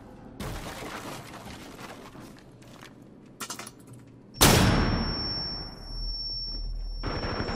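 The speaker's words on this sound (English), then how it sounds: "They flashbang and they're shooting through the flashbang" Gunfire in a video game shooter during a flashbang: scattered bursts of shots early on, then a sudden loud blast that fades under a long high ringing whine.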